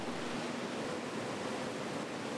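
Water rushes steadily through long metal troughs carrying coffee cherries at a coffee wet mill, a constant broadband roar with no pauses or voices.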